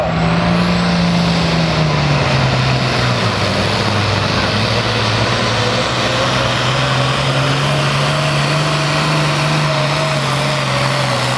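A loud, steady engine roar with a rising then sustained pitch, heavy and continuous throughout: a pulling tractor revving hard under load at a tractor pull in Lebanon, Pennsylvania.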